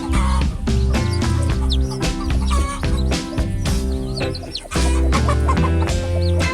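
Loud, busy hen clucking from several birds at close range, repeated cackles overlapping with scattered higher chirps and rustling throughout.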